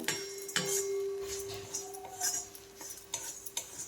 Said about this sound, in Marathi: हे दगडी फूल आणि धने हे पण टाकून घेते आणि हा तेजपत्ता आपण छान एकदम खमंग भाजून घ्यायचा आहे